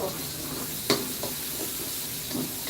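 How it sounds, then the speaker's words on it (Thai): Garlic, chili and pepper being stir-fried for Thai pad kra pao in a hot pan: a steady, soft sizzle with one sharp spatula clack near the start and a few lighter scrapes, no talking. "ผัดกะเพราผัดกะเพรา"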